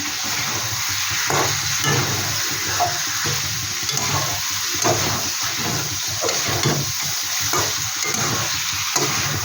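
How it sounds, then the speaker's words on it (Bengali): Flat beans fry in a pan under a constant hiss, broken by regular stirring strokes from a spatula, heard close up with no talking. "শিমটা দিয়ে একটু নাড়াচাড়া করে নিচ্ছি।"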